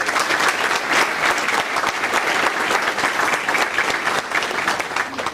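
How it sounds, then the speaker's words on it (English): Dense, steady applause from a large audience at an Air Force base all-call on Lajes Field in the Azores, honouring award winners; loud, continuous clapping throughout, with no break. "So one more time, another round of applause, because this is a huge deal."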